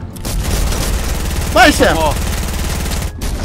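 Dense, continuous rapid gunfire rattles through a battle royale match, a steady sustained barrage with a brief break near the end, while a voice briefly calls out over it.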